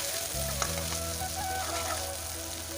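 Onion, mustard seeds and garlic frying in oil with Kashmiri chilli powder for an Assamese fish curry, a continuous close sizzle with faint spatters and no voices.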